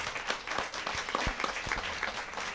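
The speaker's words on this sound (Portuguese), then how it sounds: "Por favor, gente, palmas para o Paulo" An audience at a book fair event in Ribeirão Preto claps for a guest named Paulo, a brief burst of many hands clapping at moderate distance with faint crowd murmur underneath.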